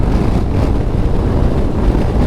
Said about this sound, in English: Heavy cross winds, very windy